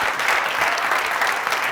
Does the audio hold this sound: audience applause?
yes